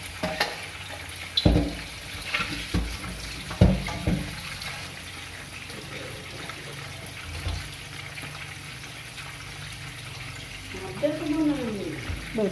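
Eggs and fish frying in a pan in a home kitchen while breakfast is made. A steady, soft sizzle runs under occasional utensil clanks and knocks, and people can be heard talking nearby.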